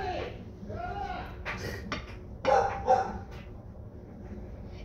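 A pet dog barks and yips at a passing school bus in a few sharp bursts, close by, with a person talking around the barks.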